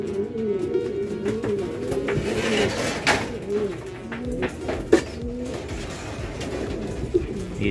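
Racing pigeons cooing at a loft, several birds producing soft rolling coos that overlap in a continuous low murmur, close by, with a couple of brief knocks and no speech.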